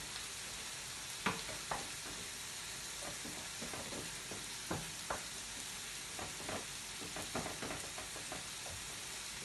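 Chilli con carne frying in a pan, a steady loud sizzle with scattered soft scrapes and clicks of stirring throughout.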